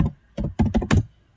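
Quick keystrokes on a computer keyboard, about five close, crisp clicks in a short uneven burst, with no voices over them.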